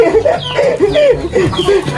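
A rooster clucks in a quick run of short, bright calls, close and fairly loud, with a low background murmur beneath.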